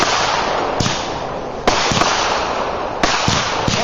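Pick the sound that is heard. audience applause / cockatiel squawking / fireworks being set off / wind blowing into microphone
fireworks being set off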